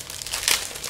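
Packaging from a monthly subscription box torn open by hand, a close, brief burst of crinkling and ripping that peaks midway and then settles into softer rustling.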